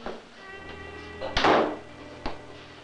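A house door shut with a single solid thunk, followed by a lighter knock, heard at moderate distance in a quiet home interior.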